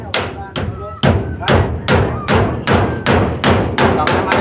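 Hammer blows land in a steady, loud series of about ten sharp thuds, roughly two per second, close by, with faint background voices between strikes.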